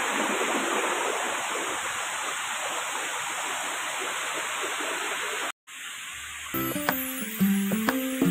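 A rushing waterfall gives a dense, steady hiss of falling water up close for about five seconds, then stops suddenly and music follows.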